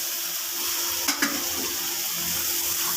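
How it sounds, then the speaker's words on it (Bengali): Boiled soybean goes into fried spices in a pan and is stirred, giving a constant, close sizzle with a couple of quick clinks from the utensil partway through. "এবার সিদ্ধ করা সোয়াবিনটা যে ছিল এর মধ্যে দিয়ে দিলাম"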